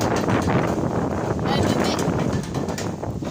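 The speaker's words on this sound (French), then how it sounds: "Vraiment, aujourd'hui il fait vraiment beaucoup de vent." Strong outdoor wind in Nîmes during football practice, a steady loud buffeting roar across the microphone with gusty swells, while a person speaks over it.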